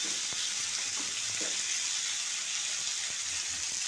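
Cabbage curry sizzling in hot oil with cumin and chili, heard as a soft, continuous hiss at low level, with a few faint utensil taps near the start.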